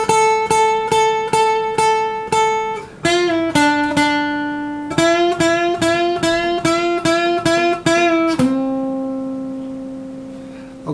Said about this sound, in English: the next part of the lead is where the second guitar comes in.